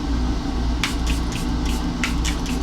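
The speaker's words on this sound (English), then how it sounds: "I'm gonna spray some Airbrush Flawless Charlotte Tilbury setting spray" A few short, soft hissing bursts of Charlotte Tilbury Airbrush Flawless setting spray, spaced irregularly over a constant low hum.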